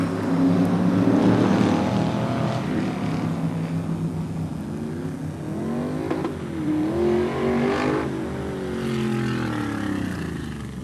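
Race cars on a short oval track roar past with a sustained engine drone that rises and falls as they circle, several engines overlapping at mid distance with no voices.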